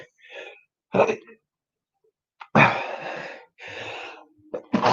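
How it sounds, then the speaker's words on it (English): Several abrupt, breathy bursts separated by pauses, like sneezes and sharp inhales, close and fairly loud, with no talking. "Oh God, sneezing."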